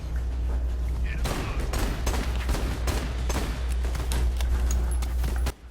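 Gunfire in the VR shooting game Spatial Ops, a dense continuous fusillade of rapid shots over a low rumbling bed, loud and close, with no talk.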